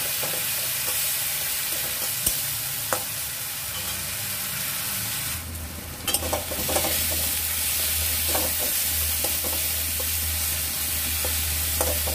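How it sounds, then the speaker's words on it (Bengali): Ginger, onion, garlic and chilli paste masala frying in a pan, a steady broadband sizzle with occasional clicks of stirring, close and continuous with no talking; a brief burst of steam hiss breaks in midway. "আমি আদা, পেঁয়াজ, রসুন, লঙ্কা বাটা দিয়ে মশলাটা একটু ফ্রাই করে নেব"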